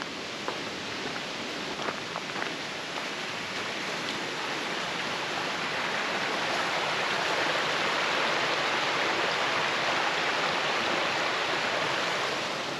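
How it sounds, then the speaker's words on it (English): A creek at Russian Gulch in the Jenner Headlands Preserve roars down a densely forested mountain, a steady, full rush of water that grows a little louder toward the end. "the creek down here is just roaring down the mountain"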